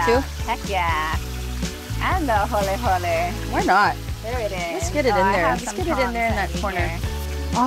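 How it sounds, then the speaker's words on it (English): Steady sizzling of fish frying in hot oil runs throughout, with a couple of people talking excitedly over it close by. "I love that sound of just fried fish."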